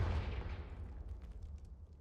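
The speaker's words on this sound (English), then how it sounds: "Confringo, that's the one." A Confringo spell blast in Hogwarts Legacy bursts loudly, with a heavy low boom that fades over about two seconds as a fizzing tail.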